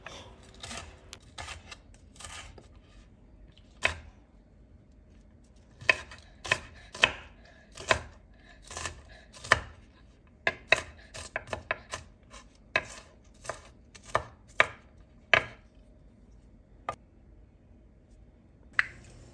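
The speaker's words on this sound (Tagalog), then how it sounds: "hiwa-hiwain lang ng maliliit" Onion being chopped into small pieces on a cutting board: sharp knife taps, sparse at first and then in quick irregular bursts, close and clear against a quiet room.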